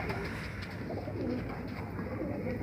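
Feeke baajre pigeons coo in a soft, continuous murmur of low, rolling calls, close and steady throughout with no speech over them.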